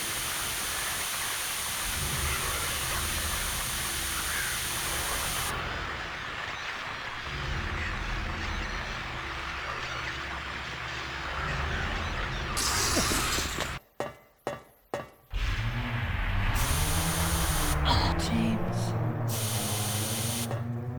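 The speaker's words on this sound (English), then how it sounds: "Hyper Spray, suspicious spray can, effect unknown." The Hyper Spray can in Silent Hill 2 sprays in a long, steady, loud hiss, then breaks into short sputtering bursts with brief silences, followed by glassy clinks and renewed hissing.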